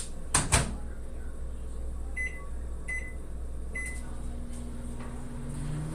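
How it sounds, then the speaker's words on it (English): A microwave oven warming food in a home kitchen during baking: a steady hum runs throughout, with a few short beeps and a door or button click near the start. "Warm it up a tiny bit in the microwave"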